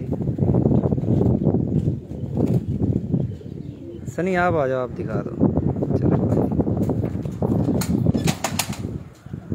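Pigeons at a pigeon keeper's loft in Kotla Arab Ali Khan coo and flap their wings, with a loud burst of flapping midway, all under near-constant conversation between men.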